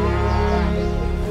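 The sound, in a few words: wild cattle mooing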